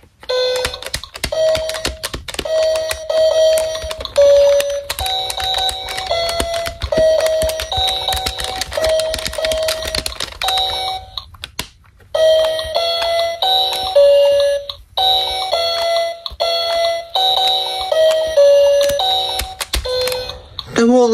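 A LeapFrog Letter Discoveries toy plays bright electronic beeping letter music, short repeated tones in a jingle-like pattern with chiming accents, loud and close, with a brief pause partway through.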